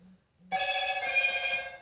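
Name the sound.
phone ringing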